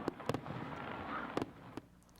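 Fireworks at a high school football game between Ridgeline and Green Canyon: several sharp bangs in irregular bursts over a rumbling, crackling background, heard from a moderate distance with no clear speech.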